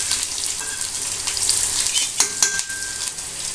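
Green chili and garlic frying in hot oil for a quick okra (bhindi) stir-fry, a steady close sizzle with a few scraping stirs and spatula taps partway through; no talking.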